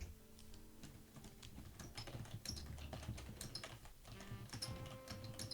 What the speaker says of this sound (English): Mechanical keyboard, go.